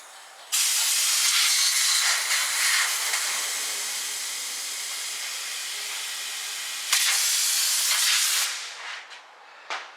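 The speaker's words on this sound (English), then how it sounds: "this is fuel line here. I'm going to blow from the front to the back." Air blown through the fuel line of a 1965 Ford Galaxie makes a loud, continuous rushing hiss for about six seconds, surges again, then sputters out in a few short puffs, with no talking.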